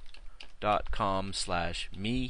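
A person speaks steadily while typing on a computer keyboard, with faint key clicks tapping underneath the voice throughout.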